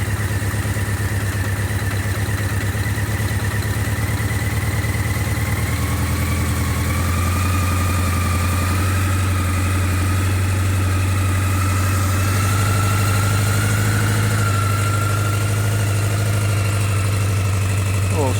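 A Honda CB650 Nighthawk motorcycle engine idles after a carburetor overhaul, a steady, close, low mechanical rumble whose pitch shifts slightly as the idle is adjusted, running continuously throughout.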